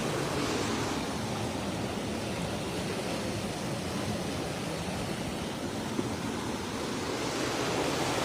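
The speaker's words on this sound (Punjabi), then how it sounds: "ਦੇਖੋ ਦਰਿਆ ਦਾ ਹਾਲ ਕੀ ਆ" A swollen river in flood rushes past in a steady, broadband roar of flowing water, constant and fairly loud with no pauses and no voices.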